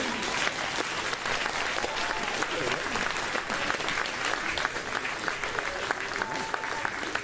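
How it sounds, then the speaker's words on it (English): Audience applause at a spring fine arts night after a student's final performance, steady dense clapping from a sizable crowd sustained at even loudness throughout. "Give a round of applause."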